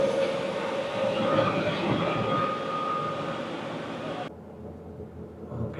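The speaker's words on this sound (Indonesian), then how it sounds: "Cuman 2 gerbong doang teman-teman keretanya. Ditarik sama OBB Siemens Taurus." A short two-car train hauled by an ÖBB Siemens Taurus locomotive rumbles and roars past nearby, loud and steady, then drops suddenly to a quieter hum.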